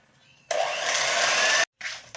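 An electric mixer beats softened butter with 180 grams of sugar in one steady, close whir of about a second, then starts again briefly after a short stop.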